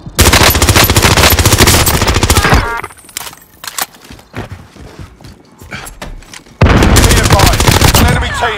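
Enemy gunfire in the battle royale shooter Warzone on Rebirth Island: loud sustained automatic bursts for nearly three seconds, a gap of scattered quieter shots and game noise, then another loud dense burst near the end.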